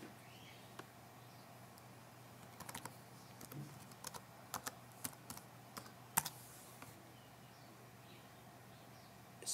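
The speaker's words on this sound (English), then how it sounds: "Step 12, enter a new password." Faint, close keystrokes on a computer keyboard as a new password is typed into a website login form, coming in a scattered, uneven rhythm against a quiet room hum.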